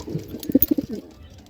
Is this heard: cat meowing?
no